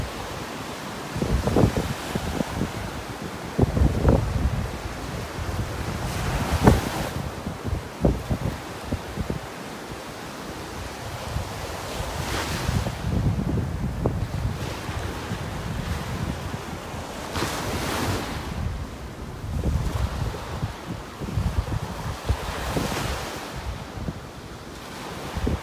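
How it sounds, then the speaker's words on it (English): Heavy wind buffeting a microphone over ocean waves breaking on a beach in North Naples, Florida, with gusty low rumbles and surging washes of surf swelling and fading repeatedly, loud and continuous with no talking. "I turn around, the wind noise is going to be pretty intense."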